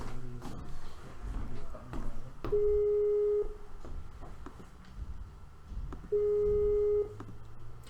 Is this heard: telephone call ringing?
yes